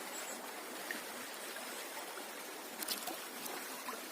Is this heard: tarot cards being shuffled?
no